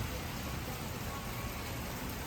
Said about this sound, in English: when it's pouring down rain